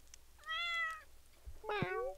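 Two distinct meows from a cat in the Stardew Valley farming video game, the first a drawn-out call and the second a sharper, rising-falling cry after a short pause, heard clearly with no talking.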